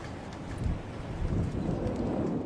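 Steady rain and rumbling thunder from a rain-wrapped tornado storm moving through the south side of Athens, a dense continuous roar with low booming swells throughout.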